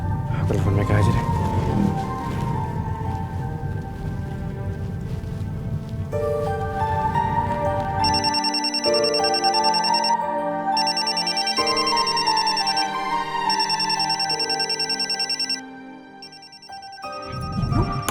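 An outgoing phone call rings back in a repeating electronic ringtone pattern that starts after a stretch of noisy rain-like background, with voices heard around it.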